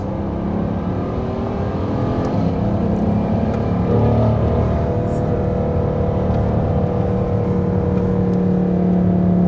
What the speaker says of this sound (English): I know y'all want to hear the exhaust.